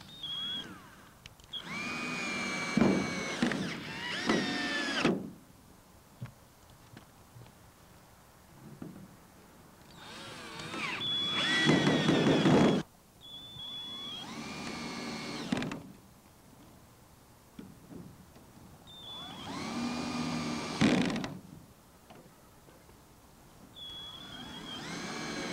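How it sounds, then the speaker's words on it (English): A power drill drives 1¼-inch screws through a greenhouse back panel into its base, heard as four separate whirring bursts of a few seconds each, with quiet gaps of handling noise between them. "Get some 1¼-inch screws and fasten the back panel to the base like this."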